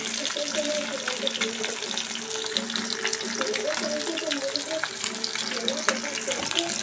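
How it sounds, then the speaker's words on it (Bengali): Fish rubbed with salt and turmeric fries in hot oil in a wok, giving a steady, dense sizzle that is loud and close. Faint low voices sit under it throughout. "মাছটা ভাজা হচ্ছে।"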